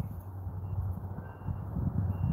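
A self-leveling laser level beeps in a car-wrap workshop: faint, high intermittent tones over a low, rumbling background hum.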